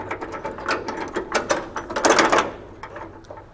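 A hand ratchet clicks in quick, uneven bursts while snugging a cab mount bolt on a 1960-66 Chevy or GMC truck, loud and close, with a burst of scraping clatter near the end.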